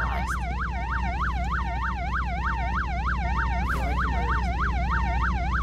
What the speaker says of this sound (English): God, turn off your siren!